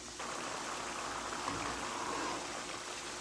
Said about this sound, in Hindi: ये देखें दाल हमारी फ्राई हो रही है।